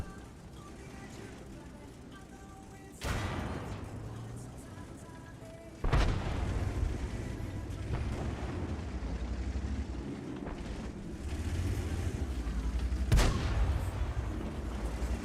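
A German heavy tank in an online tank battle game fires gold rounds, heard as a few sharp, loud cannon booms spaced seconds apart over a rumbling engine and battlefield background.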